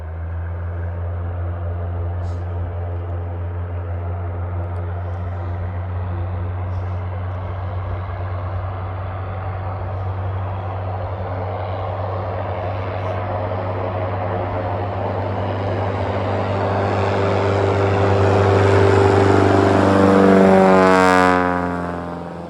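An Aviat Husky light propeller aircraft taking off: a steady droning engine hum holds for a long stretch, then swells louder and rises in pitch toward the end as it passes close.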